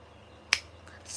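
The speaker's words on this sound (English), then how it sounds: "you want to snap your fingers and say, Sacramento." A single sharp finger snap cracks out near the middle, crisp and close, against quiet room tone with a faint soft rustle after.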